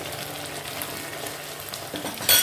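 Mustard paste in a pan sizzles after a splash of water is added, giving a steady moderate frying hiss with soft scraping and a sharper burst at the very end.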